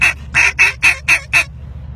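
Six sharp, evenly spaced quacks from a duck call imitating a hen mallard, loud and close, ending abruptly with a short quiet tail.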